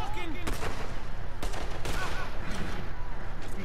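Gunshots ring out in Red Dead Redemption 2, several sharp cracks spaced across the clip over constant background noise, with voices talking underneath.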